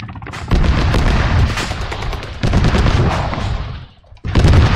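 Missile launch and impact during an ARMA 3 battle, loud dense roaring blasts filling the clip, with a brief drop near the end before another heavy burst.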